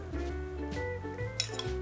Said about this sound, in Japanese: これをアクがね、やっぱり鶏から出るからアクを取ります。